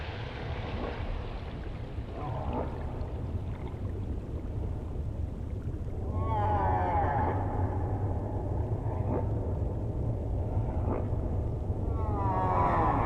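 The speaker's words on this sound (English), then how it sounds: "Male humpback whales repeat each other's songs and add to them so they become ever more complex and beautiful" A male humpback whale sings underwater, with rising and falling moans and sweeping upward calls repeating over a steady low rumble, moderately loud and unaccompanied.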